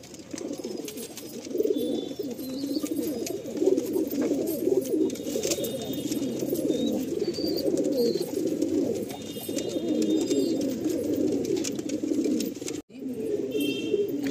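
Pigeons at a pigeon sale coo continuously in a dense, overlapping chorus, close and fairly loud, with a brief drop-out near the end and no talk.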